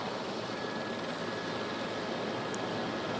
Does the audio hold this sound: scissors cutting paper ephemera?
no